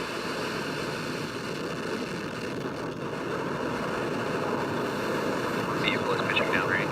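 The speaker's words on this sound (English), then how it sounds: "Engines full power. And liftoff of Viasat 3." Deep continuous roar of a SpaceX Falcon Heavy rocket lifting off with the Viasat 3 payload, a broad steady rumble holding level throughout, with a voice talking faintly over it.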